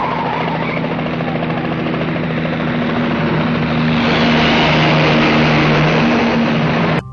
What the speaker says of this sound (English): insanely dangerous helicopter stunts flying through hangar buildings while chasing the real murderer in a getaway car